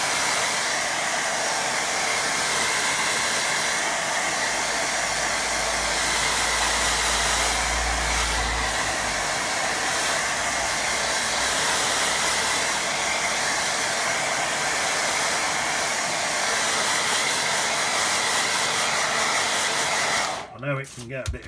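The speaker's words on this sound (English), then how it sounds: "Let's get that quick blast with dryer." A hair dryer blows steadily and loudly to dry a watercolour painting of a waterfall, a continuous rushing whir lasting about twenty seconds before it cuts off abruptly at the end.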